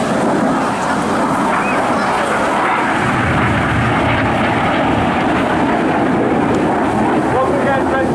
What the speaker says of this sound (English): Red 6 and 7 turn hard towards each other, with Red 7 trying to pass just behind Red 6 to finish the manoeuvre of Slingshot